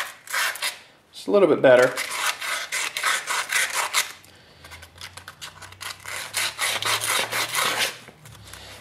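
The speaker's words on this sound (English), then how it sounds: "this coupler up a little bit, just scuff it up a little bit. That'll help the glue to adhere to it." A wand coupler is scuffed with an abrasive in steady, rhythmic rasping strokes, close and fairly loud, pausing briefly before resuming; a voice speaks a few words during the scraping.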